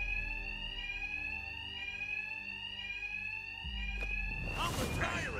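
A fire alarm rings continuously in Batman: Arkham Knight, a steady, loud electronic tone that persists throughout, with a low rumble and a burst of combat noise near the end.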